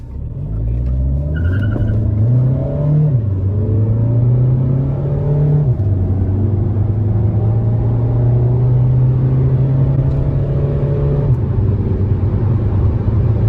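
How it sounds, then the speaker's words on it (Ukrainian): A Volkswagen Jetta Mk6 pulls hard at full throttle, its engine droning loud and close and climbing in pitch, dropping at two gear changes before rising again and holding a steady roar. "нажмемо газульку в пол"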